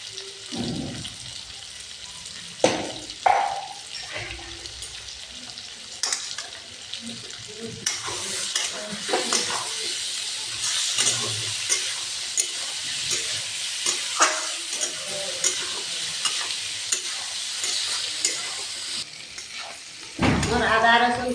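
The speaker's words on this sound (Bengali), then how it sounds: "পেঁয়াজ আলুগুলো ভাজা ভাজা দিয়ে গেছে, হয়ে গেছে। এখন আদা বাটা আর রসুনটা দিয়ে দিব।" Onions and potatoes fry with ginger paste and garlic in a pan, a constant close sizzle under frequent stirring scrapes and clacks of a spatula, with louder knocks near the start and end.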